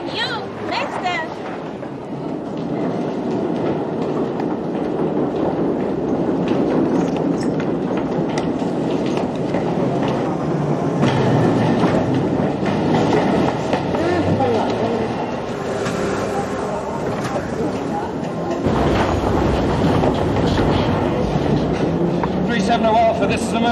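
A southbound train out of Wembley Park runs along the rails with a continuous heavy rumble and rattling carriage noise, loud and close, with voices speaking over it at times.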